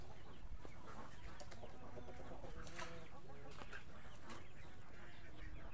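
A hen clucks repeatedly in a farmyard, joined by other chickens and a faint rooster, with short broken calls over steady background noise at moderate distance.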